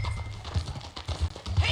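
Horse hooves clip-clopping at a steady ride in the Red Dead Redemption 2 video game, a soft irregular patter of hoofbeats over dense ambient noise.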